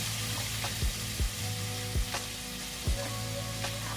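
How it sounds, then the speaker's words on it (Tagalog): Meat with its fat sizzles steadily in a frying pan, with a constant crackling hiss running throughout and a few soft thumps of stirring spaced along it, with no voices. "Igisa lang natin guys na hanggang lumabas yung oil niya."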